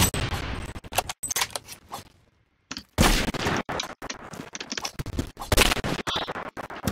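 Rapid bursts of gunfire in a Roblox shooter match, loud and close, sharp cracks tumbling over one another in clusters with a brief lull in the middle before the firing resumes.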